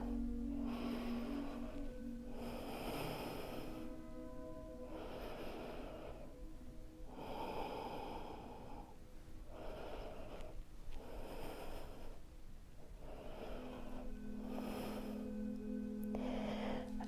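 Slow, deep breaths are taken in and out during a yoga practice, a steady cycle of about six soft airy inhales and exhales heard close up, with no speech.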